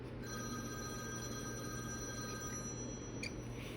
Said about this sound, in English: That's my husband's phone.